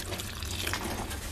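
Water poured from a bucket onto a potted pineapple plant grown from a pineapple top, a steady soft splashing and trickling close by with no talk.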